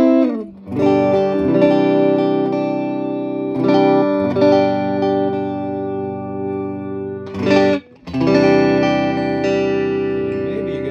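Clean electric guitar through the neck pickup of an Allen Classic 10 EL34 amp, sustained chords ringing out in three separate strums with brief gaps, bright and full, with no talking.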